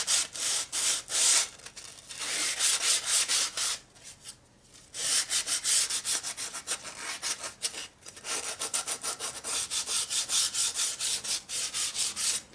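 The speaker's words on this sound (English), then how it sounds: "Okay, and then we'll just do the same sanding deal on that again." Hand sanding with 180 grit sandpaper on a motorcycle part makes close, rhythmic back-and-forth rasping strokes, with one short pause partway through and no talking.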